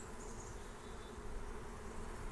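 Honeybees buzzing during a beehive check, a steady, close hum that keeps up without a break and stands alone with no voices.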